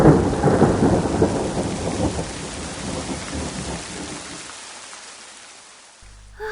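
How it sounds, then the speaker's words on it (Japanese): Heavy rain pours in a dense roar while a deep thunder rumble rolls through and slowly fades, ending in near silence. "外は大雨、雷も鳴っています。"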